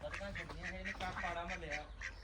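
A run of quick, nasal duck quacks repeats steadily up close, mixed with a voice calling out.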